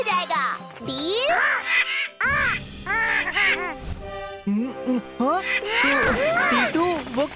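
A cartoon character vocally imitates a crow's cawing in a string of squawky, rising and falling calls over busy background music, loud and close.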